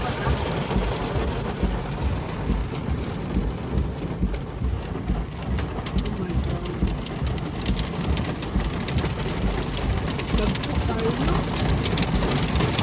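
Heavy downpour drumming on a moving car on a rainy road, a dense, constant roar of rain with rumbling road and engine noise beneath, steady and loud throughout with no breaks.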